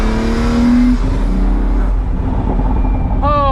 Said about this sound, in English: The first thing you notice in this car is that roof scoop noise right behind your head.